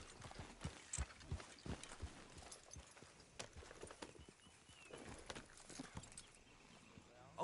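Horse hooves walking in the Red Dead Redemption 2 video game, a steady clip-clop of soft, fairly faint hoofbeats with light ambient sound behind them.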